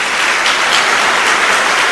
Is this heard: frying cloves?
no